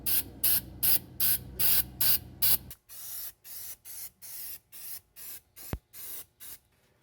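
Bursts of aerosol spray paint hiss onto the undercarriage of a Cushman Truckster, about eight short close blasts in a regular rhythm followed by a run of softer, evenly spaced puffs and a brief knock.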